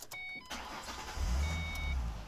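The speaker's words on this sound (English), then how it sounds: "And let's start the car up." A Ford Mustang V6 wide-body convertible fires up: a short starter crank, then the engine catches into a loud, steady low rumble that settles into idle, heard up close with a faint electronic beep early on.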